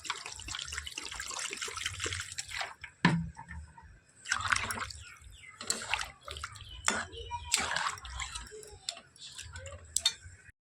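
Water is poured into a pan of curry after the spices have been cooked down, making intermittent splashing, hissing bursts with small clinks and ticks in a quiet kitchen.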